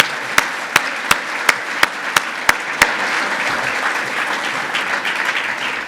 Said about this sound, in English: can you stand up so everybody can give you a big round of applause?